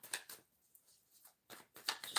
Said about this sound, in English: Just shuffle those up a little bit.